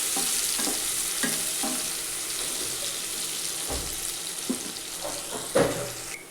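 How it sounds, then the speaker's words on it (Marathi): Onions frying in a pan while preparation of a vegetable pulao gets underway, a steady close sizzle with occasional scraping stirs and clinks of a utensil against the pan. "कांद्याला छान परतून घ्यायचं"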